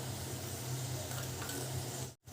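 Ground spices (turmeric, garam masala, cumin powder, Kashmiri chili powder and kasuri methi) sizzling in hot oil while being stirred for egg curry, a soft steady frying hiss with a brief dropout near the end.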